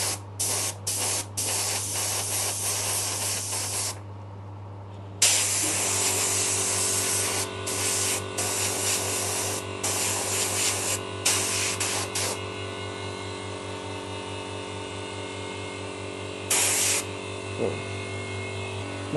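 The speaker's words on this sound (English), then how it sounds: "I'm just going to spray all the really tight areas first" Bursts of spray painting nitrocellulose lacquer onto a guitar hiss loudly in short and long blasts over a steady low hum, with brief pauses between passes.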